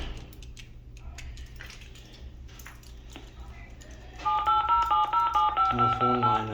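Intercom keypad buttons pressed, starting with scattered light clicks and taps, then a run of rapid electronic beeps in quick rhythmic succession, close and fairly loud over a steady low background hum.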